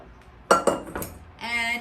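Mashed potato being stirred into a saltfish mixture in a bowl, with a few quick utensil clinks and scrapes against the bowl, close and clear.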